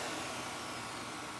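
A Bissell vacuum cleaner runs after being switched on by accident outdoors, a steady, even whoosh with broad hiss and no change in pitch, faint and constant throughout with no voices.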